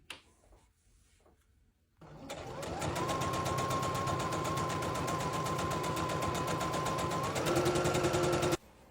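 Sewing machine hemming flannel-style Christmas pajama pants runs in one steady rapid stitching burst of about six seconds, close and fairly loud, starting and stopping abruptly in a quiet room.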